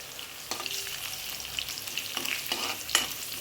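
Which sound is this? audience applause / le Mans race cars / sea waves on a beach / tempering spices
tempering spices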